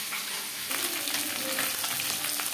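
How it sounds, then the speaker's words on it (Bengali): Katla fish pieces frying in oil in a pan, a steady bright sizzle and crackle with small pops, fairly quiet and continuous, no talk. "মাছ ভাজা হয়ে গেছে,"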